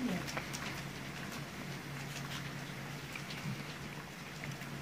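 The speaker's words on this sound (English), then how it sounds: "that's a heavy rain," Heavy rain falling steadily outdoors, a continuous soft hiss with scattered drop patter, fairly faint and unbroken across the whole stretch.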